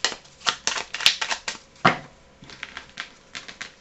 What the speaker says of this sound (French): Je remélange et on passe au tirage.